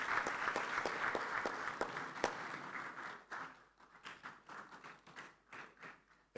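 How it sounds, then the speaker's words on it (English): Audience at a parliamentary gathering applauding the Burundian Senate's second Deputy Speaker as she takes the podium: sharp, regular claps ring out at first, then thin into scattered, quieter claps as the applause dies away. "Please, a round of applause for her as she takes the podium."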